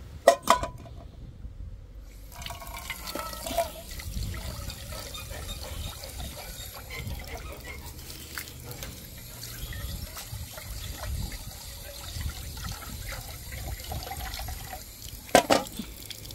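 Something being washed under running tap water at a sink, a steady trickling stream with splashes and light clinks, moderately close, beginning after a short pause and running continuously.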